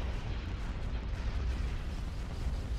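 Weapons fire during a space battle in the strategy game Star Wars: Empire at War: Forces of Corruption, a thick, unbroken wash of booming cannon blasts and explosions at steady loudness.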